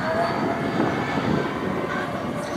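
Autogyro flying low and slow during a flight demonstration, its steady engine and rotor drone holding loud and continuous throughout with a broad rumbling wash.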